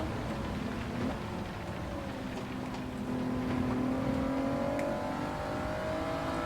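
Car accelerating hard on a wet track in Gran Turismo 7, engine note climbing steadily under a constant hiss of rain and spray, loud and continuous with no talk.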